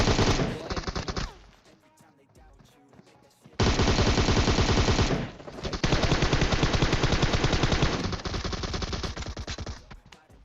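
Rapid automatic fire from an M762 rifle in PUBG Mobile, loud, dense bursts: one volley at the start, a pause, then a long sustained stream of shots.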